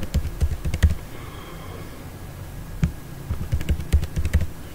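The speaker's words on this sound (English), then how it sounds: "Then type password" Someone types a password on a computer keyboard, sending out quick clusters of crisp keystrokes in two short bursts separated by a pause, close and clear with no talking.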